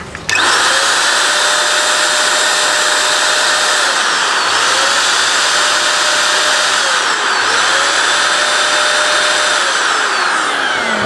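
A Coofix CF-SG001 electric paint spray gun runs continuously with a loud, steady motorized whine and airy hiss, its pitch dipping and recovering in a few slow cycles, with no talking.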